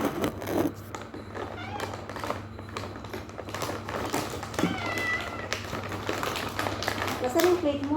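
A small kitten meows repeatedly at home around feeding time, its thin cries and light tapping sounds mixed under a person's close, chatty voice.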